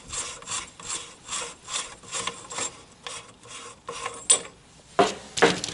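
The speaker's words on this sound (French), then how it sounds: "Je dévisse les écrous." Nuts are unscrewed from the axle of a Traction 11 B with a hand tool, giving a rhythmic series of rasping, ratchet-like turns close by. Sharper metallic clicks come near the end, and nobody speaks.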